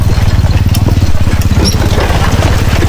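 A 125cc motorcycle hauling a heavy, loaded sidecar labors in low gear, its engine thudding in a loud, close, steady rhythmic drone with no pauses.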